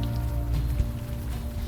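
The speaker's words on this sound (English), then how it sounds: "Alrighty. Still raining." Steady rain falls in the video game Unavowed, a continuous hiss with a low rumbling bed underneath and a faint tap near the middle, with no voices.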